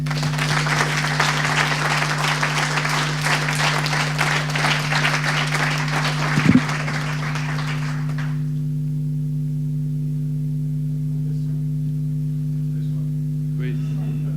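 An audience applauds after a talk, with dense sustained clapping for about eight seconds that then stops abruptly, leaving a steady electrical hum.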